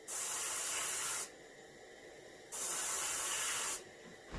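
Two long bursts of hissing spray from a paint sprayer coating a reproduction warmouth fish, each about a second, separated by a short pause, steady and close with nothing else audible.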